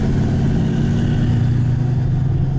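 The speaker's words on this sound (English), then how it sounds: "Definitely got a little of the engine sound there as I drive conservatively." A steady, low Lamborghini Urus engine hum drones continuously from inside the vehicle, smooth and even with a faint higher whine above it, no talking.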